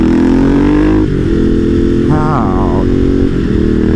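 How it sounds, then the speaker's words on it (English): A Ducati V-twin motorcycle engine grunts loud and close while being ridden around 4,000 rpm, holding a deep steady throb with brief throttle shifts and pitch changes, heavy wind rumble underneath. "Oh man, the sound of that V-twin."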